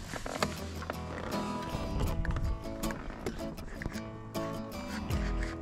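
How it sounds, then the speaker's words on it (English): A horse approaches with clip-clopping hooves, the steady clopping mixed into a busy, dense outdoor scene with other clattering mechanical noises and background activity. "And here comes the horse."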